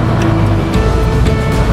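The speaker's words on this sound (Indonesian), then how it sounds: "truk kemudian masuk ke stasiun timbangan" Sugarcane truck pulling into a weighing station at a sugar mill: steady, loud diesel engine rumble close by, with a low continuous drone and faint clanks, no talk.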